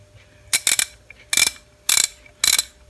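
A restored vintage Craftsman socket ratchet clicks in four quick bursts of sharp, close, loud ratcheting with short pauses between them.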